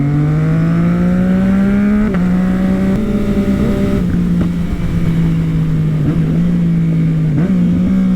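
A Chevrolet Camaro's engine drones loudly and steadily nearby, with a few short rev changes and pitch dips as it drives past. No voices are heard.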